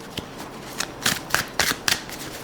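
Several brisk riffle bursts from a Carmencita fortune-telling card deck being shuffled, close and crisp, arriving in quick uneven clusters with no talk.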